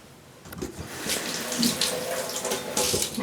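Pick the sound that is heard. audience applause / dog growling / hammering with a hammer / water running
water running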